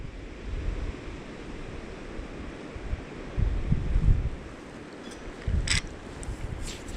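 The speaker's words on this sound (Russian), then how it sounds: "Ветер сильный." Steady wind roars across the microphone on a river in the Komi Republic, with louder gusts swelling midway, a broad rushing noise and a few faint high clicks, no voices.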